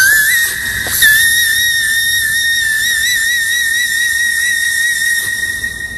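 Mariah Carey holds a very high, piercing whistle-register note, loud and sustained for several seconds with a slight waver, alone without talk.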